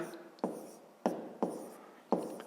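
Numbers being written by hand during a fifth-grade math exercise, a series of about five short scratchy pen strokes close up, each fading quickly, in a quiet room.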